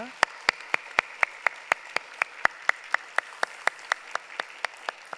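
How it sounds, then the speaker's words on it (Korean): Clapping at a church Sunday service, offered to encourage the flower-arranging team: a steady, evenly spaced run of sharp single claps, about four or five per second, fairly faint and with no voices over it. "꽃꽂이부 위에 우리 박수로 격려하도록 하겠습니다"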